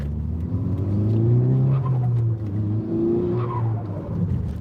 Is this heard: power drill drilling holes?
no